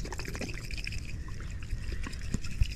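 Water pours and trickles out of a water-damaged car headlight on a Infiniti G35, a close, uneven splashing dribble with a small knock near the end.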